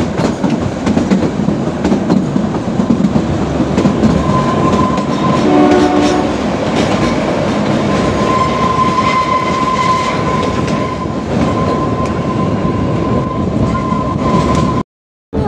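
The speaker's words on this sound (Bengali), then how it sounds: "এখন 22 দেখাচ্ছে, আবার মাঝে মাঝে 23 কিলোমিটার পার আওয়ার যাচ্ছে আমাদের টয় ট্রেনটা।" The Kalka-Shimla toy train runs on narrow-gauge mountain rails at about 22 km/h, with loud, continuous rumbling and clattering wheels and a sustained horn tone through the middle. There is no talk.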